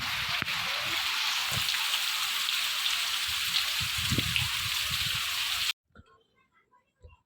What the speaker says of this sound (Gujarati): આટલો વરસાદ ચાલુ છે ને મિત્રો